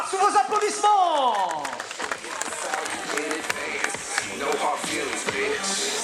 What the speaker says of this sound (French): c'est parfait Gérard, sous vos applaudissements.